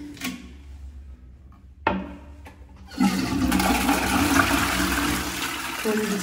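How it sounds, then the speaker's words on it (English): A bathroom toilet flushing during a rental property inspection: a click of the handle and a thump, then a loud, steady rush of water swirling and draining that carries through to the end, heard alone at close range. "Toilet is flushing."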